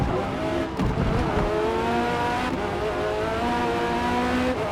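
A race car engine in the Forza Motorsport video game drives hard on the last lap, a loud sustained whine that rises and drops through gear changes, with brief tire noise.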